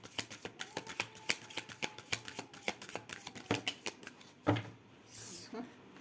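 Tarot cards are shuffled up close, a quick run of crisp flicking riffles followed by softer rustling, with someone speaking quietly over them.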